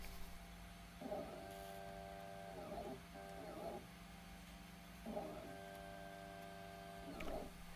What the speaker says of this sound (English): So let's make a test print